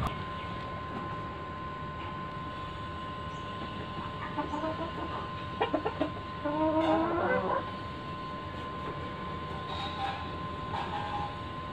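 Chickens in a poultry yard during Ranikhet disease vaccination, giving a short run of soft clucks and calls mid-clip over a steady background hum, moderately close, with no talk.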